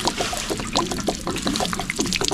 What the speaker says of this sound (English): Just drain all the water out after cutting the bypass on.